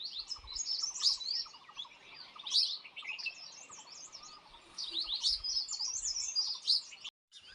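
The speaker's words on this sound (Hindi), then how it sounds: "तरह तरह के पक्षियाँ जो पूरी घाटी में, पूरी वैली में उनके अलग अलग तौर तरीके से गुनगुनाते रहते हैं, चहचहाते रहते हैं।" Morning birdsong fills a valley garden in the UK: several species chirp and warble in overlapping phrases, lively and fairly near, with a brief dropout just before the end.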